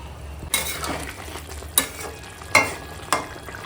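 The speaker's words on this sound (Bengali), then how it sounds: "ঝোলের সঙ্গে রান্না করে নিই এখন" Bhetki fish simmering in gravy with cauliflower in a pan, with a soft steady sizzle broken by four sharp spoon scrapes and clinks against the pan, close and without talk.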